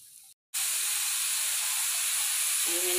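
Chicken pieces dropped into a hot pan with ginger and garlic while cooking macaroni, bursting into a loud, steady close-up sizzle after a brief silent gap, with a faint higher tone entering near the end.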